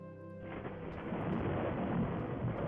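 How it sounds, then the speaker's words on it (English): Deep rolling thunder from a storm outside swells into a continuous rumble, with rain-like hiss filling the background. "You hear the pounding thunder from the storm outside."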